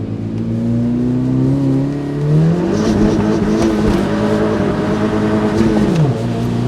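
A car on a wet road revs hard, its engine note climbing and dropping through gear changes, loud and close with a whirring tone and a hiss of tyres over the surface.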